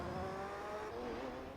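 Race car engines in Gran Turismo 3 hold a steady, loud, high-revving drone throughout, with a faint tire-squeal edge over the engine note.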